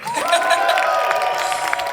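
Concert audience applauding and cheering at a youth music event, a steady crowd wash of clapping with raised voices mixed in, sustained and fairly loud throughout, with a speaker's voice faintly present.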